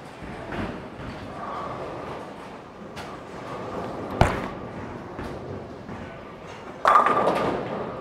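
A bowling ball strikes the pins of a bowling alley lane with a loud crash near the end, set among alley ambience with earlier thumps and clatter from other lanes.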